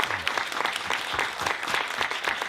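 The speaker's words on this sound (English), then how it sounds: "And I want everybody, once again, give them a big round of applause." Audience applause at a movie Q and A event, a dense steady round of clapping from a crowd filling the room with no voices over it.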